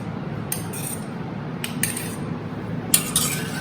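A spoon mixing pasta with white sauce in a home kitchen: a few sharp metallic clinks and scrapes against the pot, spaced irregularly over a low steady background hum, no voices.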